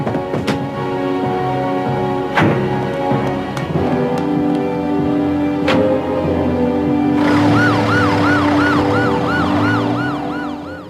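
An ambulance siren in an animated Hunter x Hunter episode wails close by, switching from a steady tone to a rapid warbling pattern, with a few sharp clicks early on.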